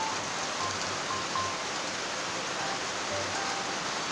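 Steady rain hisses continuously, an even wash of falling water with no voices, fairly close and constant throughout.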